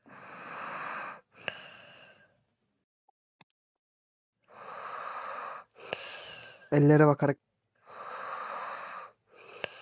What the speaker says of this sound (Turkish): Abi yanımızda nefes alıyor.